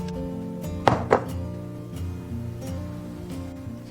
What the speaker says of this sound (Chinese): 盖上一个盘子，倒扣。